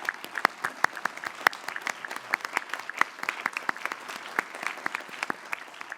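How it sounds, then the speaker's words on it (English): Audience applause at a national security college event, a steady patter of many hands clapping at moderate distance for the event staff, with no talk over it. "a round of applause"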